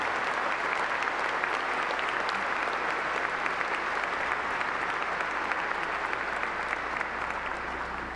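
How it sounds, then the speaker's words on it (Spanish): A congregation at a Mass in the Basílica Jalapeña applauds, a dense and steady wash of many hands clapping that holds evenly for several seconds, fairly close and with no voices on top. "Damos un aplauso a nuestra Basílica Jalapeña y a sus promotores."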